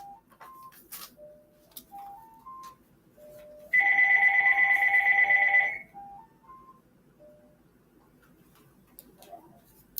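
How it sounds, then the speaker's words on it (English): A mobile phone rings during a live cooking show about sea vegetables, a steady electronic ringtone lasting about two seconds, fairly loud and close, set between quieter stretches of kitchen sounds. "My phone's ringing."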